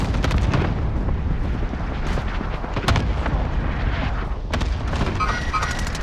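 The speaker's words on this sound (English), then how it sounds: "Fire the airstrike here." Airstrike explosions in Call of Duty: Modern Warfare, a series of heavy booms and crackling blasts with sharp transients rolling over a constant low rumble; a player exclaims once.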